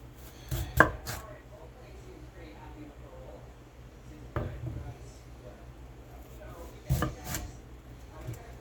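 A knife chops potatoes into wedges, making three separate firm cuts against a cutting board, spaced several seconds apart in a quiet kitchen.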